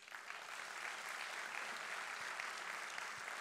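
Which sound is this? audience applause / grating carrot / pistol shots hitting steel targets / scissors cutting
audience applause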